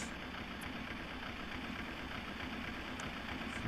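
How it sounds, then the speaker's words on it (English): A steady low engine rumble and whine, like airliner engines spooling up inside a flight simulator on the Amsterdam ramp, holds evenly throughout with no one talking. "Okay, let's start our engines."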